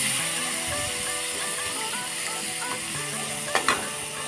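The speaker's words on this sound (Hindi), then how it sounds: "मैंने अभी तेल गर्म होने के बाद आलू फ्राई कर लूँगी।" Potatoes frying in hot fish oil, a dense steady sizzle up close, with a couple of brief metallic taps near the end and no talking.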